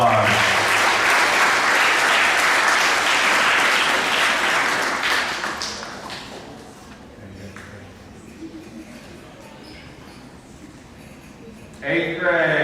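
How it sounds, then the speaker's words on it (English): A school awards assembly audience applauds honor roll students, with loud, dense clapping for about five seconds that then fades to quiet room noise before a brief burst of sound returns at the end. "Give them a big round of applause."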